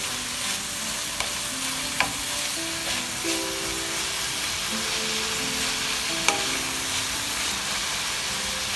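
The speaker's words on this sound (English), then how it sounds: "And we'll just saute it for a minute or two." Cut asparagus sautés in a hot pan with a dense, steady sizzle and crackle throughout, close up, broken by a few soft clicks of stirring.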